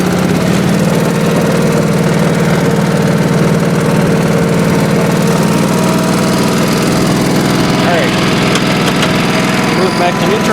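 A 1986 Honda HT3810 lawn tractor engine runs steadily in fifth gear with the throttle turned up, a loud, continuous mower-like drone with no pauses, holding a constant pitch throughout.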